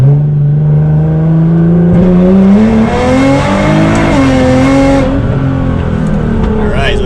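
A Nissan GT-R with an anti-lag tune accelerates hard through its gears, the engine note climbing steeply in pitch, dropping at a shift and climbing again, loud and close from inside the car.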